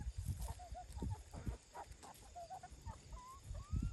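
Backyard chickens pecking and clucking over kitchen scraps and corn kernels, a scatter of short soft clucks and pecks at close range with a few rising calls, mixed with rustling and light handling noise.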